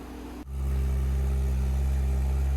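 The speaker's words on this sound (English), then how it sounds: "the tuner was basically stepping up the engine speed from idle to the 8400 RPM redline in 500 RPM increments" A stock Honda S2000 engine on a dyno during a tuning session jumps from a lower note into a loud, sustained high-rpm drone that holds steady to the end.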